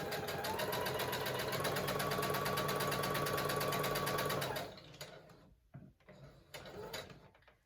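A sewing machine runs steadily while stitching a seam on a fabric mask, a loud continuous motor whir with rapid needle chatter that stops partway, leaving quieter handling clicks and rustles.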